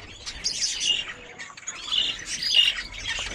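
Budgerigar chicks in a nest chirping and squawking, close and fairly loud, in continuous high-pitched bursts with short pauses.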